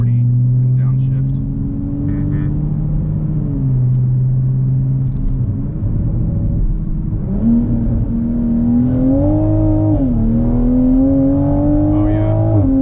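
A Toyota Supra with a ZF eight-speed automatic downshifts and pulls hard from about 40, its engine droning loud and close in the cabin and rising in pitch through the gears, with a brief voice over the rumble.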